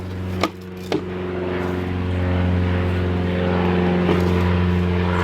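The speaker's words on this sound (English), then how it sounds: "that plane sounds like it's coming down" A low-flying propeller airplane passes overhead, its loud steady engine drone building and holding across the clip with a couple of sharp knocks near the start.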